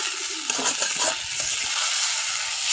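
Noodles being stirred and mixed in a hot pan, with a steady sizzle and scraping of the utensil against the metal, close and fairly loud, no voices.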